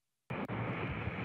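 An Antonov An-132D demonstration transport aircraft accelerating along a runway: after a brief silence, a loud, steady broadband engine roar cuts in abruptly and holds without talk.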